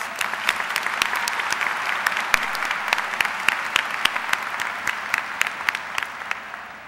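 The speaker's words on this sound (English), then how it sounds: "Please join me in giving them a round of applause." An audience at a 2007 high school graduation ceremony applauds the school trustees, a steady dense wash of clapping with scattered sharper claps standing out, continuing alone and fading slightly at the end.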